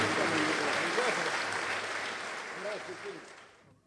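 A theatre audience at an accordion concert claps in a broad, sustained round of applause that slowly fades out, with voices calling out over it.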